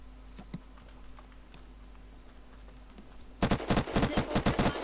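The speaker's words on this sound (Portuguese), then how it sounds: "Ela tá atirando aqui embaixo." Rapid gunfire from the survival game Unturned bursts in suddenly after a quiet stretch, a loud, close string of sharp shots in quick uneven succession.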